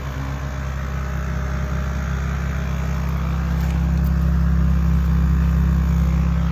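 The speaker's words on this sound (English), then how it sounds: "starting my dad's old truck" A 1993 Dodge Ram 2500 first-generation Cummins turbo diesel, started for the first time in five years, runs close up with a steady deep idle that grows louder partway through. No one speaks.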